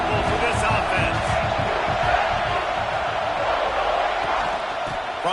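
A stadium crowd roars in the video game NCAA 26 during a college football matchup between Auburn and South Carolina, a dense, loud wash of noise that holds steady while a commentator talks over it.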